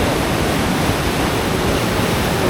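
Water rushing at a dam on a river, a loud, steady broadband roar that fills the whole span without pause or voices.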